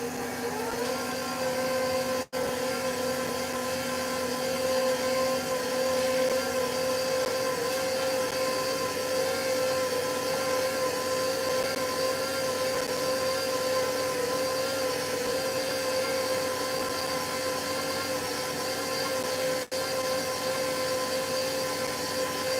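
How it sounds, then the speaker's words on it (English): A KitchenAid Pro Line 5 stand mixer running on speed 2, giving a constant loud motor hum with a steady mechanical whir that holds without a break for over twenty seconds. "on the KitchenAid, you're supposed to mix on speed 2."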